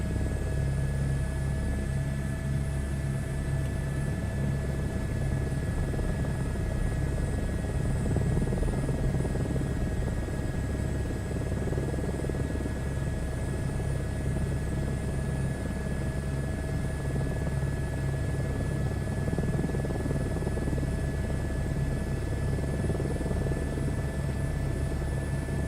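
A helicopter in a flight simulator game drones steadily with a constant rotor and engine hum and a sustained high whine, unbroken and fairly loud for the whole stretch.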